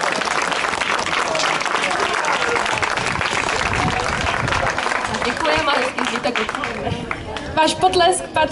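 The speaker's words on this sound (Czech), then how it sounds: "Váš potlesk patřil lidové muzice Modřenec, která za námi přijela z Modřan." A folk festival crowd applauds after a children's folk ensemble performs, with dense, steady clapping that thins toward the end while a voice begins speaking over it.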